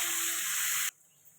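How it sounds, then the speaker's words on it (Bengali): Onions sizzle in hot oil in a pan for a Bengali fish curry with eggplant, potato and bori, a loud steady broadband hiss that cuts off abruptly partway through, leaving quiet background. "পেঁয়াজটা ভালো করে লাল লাল করে ভেজে নেব।"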